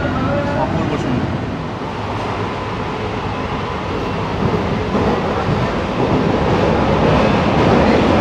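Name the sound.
Sealdah to Krishnanagar AC local train running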